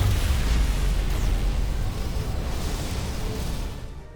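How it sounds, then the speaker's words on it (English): Heavy, rumbling blast of dilithium crystals bursting from a phaser shot in the Star Trek: Resurgence video game, a deep booming roar that dominates and then slowly fades out. "Dilithium explosion!"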